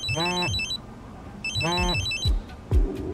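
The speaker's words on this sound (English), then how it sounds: "his phone starts ringing" A mobile phone rings with two bursts of a bright electronic ringtone about a second apart, each followed by a pause, then a couple of dull thumps.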